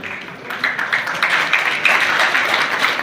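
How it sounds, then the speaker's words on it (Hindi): Crowd applause at a Vishwakarma Jayanti celebration, dense clapping from many hands swelling after a brief quieter start and continuing steadily, fairly loud and close. "जोरदार तालियों से स्वागत।"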